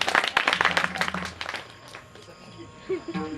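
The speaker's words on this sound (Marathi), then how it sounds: "एकदा त्यांनी जोरदार टाळी वाजवा." A burst of audience clapping at a Marathi kirtan fills the first second and a half, then fades out as a voice speaks.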